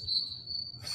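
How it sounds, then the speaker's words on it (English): Cricket chirping played as a sound effect from a soundboard button: a steady, high-pitched insect trill running continuously for about a second, fairly loud and alone with no talk over it. "all you hear are freaking crickets"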